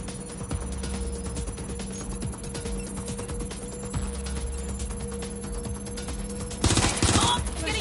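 Rapid, continuous gunfire in the Watch Dogs Legion video game, crackling shots over a steady tonal hum, ending in a louder burst near the close.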